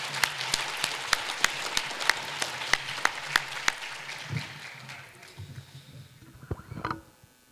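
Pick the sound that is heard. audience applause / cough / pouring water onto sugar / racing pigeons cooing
audience applause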